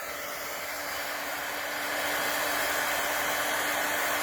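A heat tool blows steadily while warming up to melt ink or embossing material for card making, a constant loud airy whoosh that grows slightly louder partway through, with no voices.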